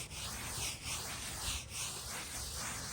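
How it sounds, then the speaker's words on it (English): A green scrub pad soaked in acetone rubs steadily back and forth across a boat hull, a continuous close abrasive scrubbing that swells and eases in a regular rhythm with no voices. "scrubbed again with the green pad a little bit, and then back to scrubbing with this"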